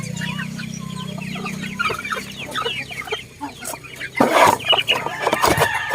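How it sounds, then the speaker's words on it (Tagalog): Silkie chickens cluck softly and intermittently nearby, with a louder burst of clucking toward the end over a low background hum. "Kabibili ko lang po yan ng silky chicken."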